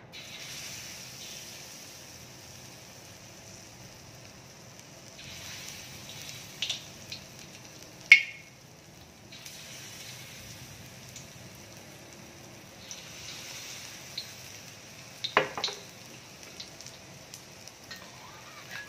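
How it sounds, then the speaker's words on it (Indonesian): Soft, steady sizzle of prawn fritters (cekodok udang) frying in hot oil that swells and eases, broken by a few sharp clicks and pops. "Sekarang saatnya kita goreng. Minyak sudah panas ya."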